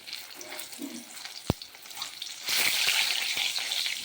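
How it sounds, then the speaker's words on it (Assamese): Eggs fry in a wok, starting with a soft background and one sharp click, then a loud, steady, close sizzle that holds through the last part. "কণীকেইটা অকণমান ৰঙাকৈ ভাজি ল'ম।"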